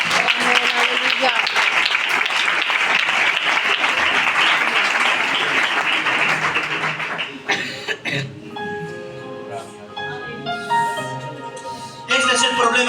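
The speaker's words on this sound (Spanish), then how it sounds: "Le damos un fuerte aplauso al Señor." A church congregation claps loudly together during a worship service, a dense steady roar of hands for about seven seconds before it thins into scattered claps with voices and music-like tones.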